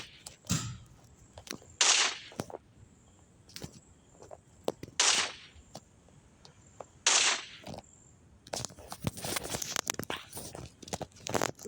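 Gunfire in a Grand Theft Auto–style video game with a soldier shooting: a few loud, sharp bursts rise separately among scattered clicks and game effects, with busier clatter toward the end.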